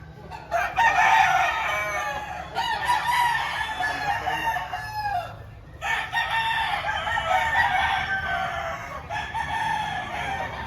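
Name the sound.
roosters crowing at a Philippine cockfighting chicken auction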